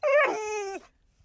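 A dog whimpers and then draws out a single short, high, quavering howl that rises and fades, close and clear, with no voices over it.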